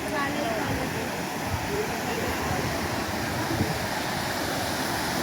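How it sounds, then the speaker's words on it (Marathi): Steady rushing of a waterfall beside a temple fills the scene, a broad continuous roar with a voice talking over it. "पाण्याचा आवाज येतच असत तुम्हाला."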